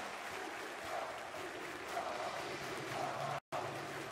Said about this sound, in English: Pretty happy Taz, pretty happy Polish crowd, I'd say.